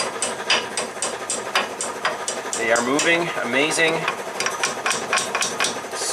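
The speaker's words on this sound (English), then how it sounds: "Let's see if we can gently knock these out." Light, repeated metallic taps come from gently knocking retaining pins out on a '67 Triumph GT6. The close, irregular knocks are spaced across the moment, and a voice briefly speaks partway through.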